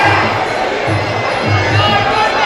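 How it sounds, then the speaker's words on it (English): Crowd at a Roar combat fight, a steady noisy hubbub of voices that swells into short bursts of cheering, loud and enveloping, with a voice speaking over it. "the crowd's started to liven up on this fight"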